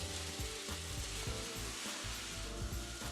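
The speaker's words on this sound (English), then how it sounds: "Mixing the concrete is noisy, messy, but precise." A concrete mixer churns a batch of concrete, a loud continuous grinding roar with rhythmic clunks and rattles as the drum turns.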